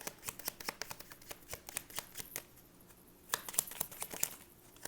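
Tarot cards being shuffled and pulled from the deck make quick, close riffling flutters and soft slaps in irregular bursts, briefly pausing midway before a busier flurry.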